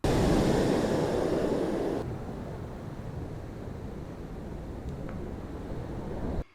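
Strong ocean waves wash onto a stony beach at San Sebastián de La Gomera in the Canary Islands, a loud, continuous surf roar with wind noise that drops somewhat after two seconds and then swells again near the end.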